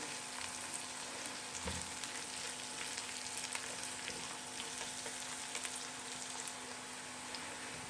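Garlic and onions fry in a pan, giving a steady, close, even sizzle with faint crackles and no talk.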